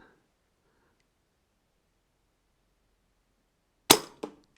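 A single sharp crack from a Brocock Bantam Sniper .25 caliber regulated air rifle, followed by a softer metallic knock, comes after several seconds of near silence and is loud and close.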